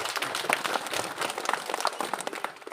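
Audience applause at a school principal's retirement farewell ceremony, a steady, dense clapping from a crowd that carries on throughout with no talk over it.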